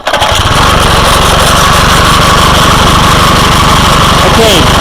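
A petrol lawn mower engine runs loud and close with the choke still on, a rough, fast chugging putter that holds steady throughout with no voices.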